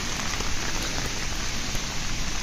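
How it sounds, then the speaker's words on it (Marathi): Steady, heavy monsoon rain at Kumbhe Waterfall in Tamhini Ghat pours down in a dense, even hiss with no breaks, close and constant throughout. "तसा पाऊस चालू आहे"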